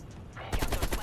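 An AK-47 in the Black Ops Cold War video game fires a loud, rapid burst of automatic shots that starts suddenly after a brief quiet lead-in.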